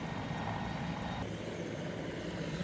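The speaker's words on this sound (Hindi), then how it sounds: "हेलीकॉप्टर लैंड कर गया।" A helicopter carrying India's prime minister lands, its rotors and engine making a dense, continuous whirring roar with a steady pulse, close by and loud throughout.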